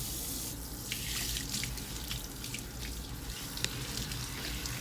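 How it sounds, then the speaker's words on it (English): Water runs steadily from a tap while a bleached-knot wig frontal or closure is rinsed under it, giving a continuous splashing hiss with a few small drips and taps, close and unbroken. "the rest of this video is just me conditioning the hair and rinsing it out"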